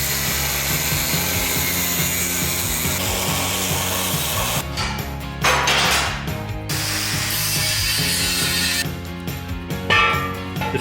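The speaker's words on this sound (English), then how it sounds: "The angle on the trailer tongue supports needed to be cut by hand using a mini grinder." A mini grinder cuts steel angle on a travel trailer tongue support, a loud sustained abrasive whine and grinding rasp with brief dips and surges as the disc bites and eases off the metal.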